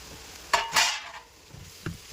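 A spoon stirs potatoes into a hotel-style chicken curry with coconut milk in a pan, giving a few distinct scraping clinks against the metal over a soft, quiet sizzle.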